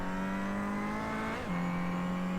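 A race car engine in the iRacing sim at Brands Hatch holds a steady, loud drone, dipping briefly mid-way as if shifting, then settling at a slightly lower pitch, with no voices.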